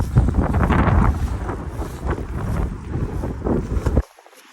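Strong wind roars steadily across the microphone outdoors beside a vineyard in France, a loud, constant buffeting rumble that cuts off abruptly near the end.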